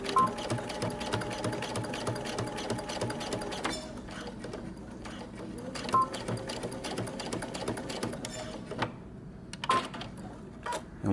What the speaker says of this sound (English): Okay, starting on one end, I'm just going to stitch down